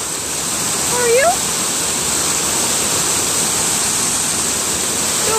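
A waterfall pours with a dense, constant rushing roar while a dog plays in the water, and a couple of faint high chirps rise briefly over the steady wash.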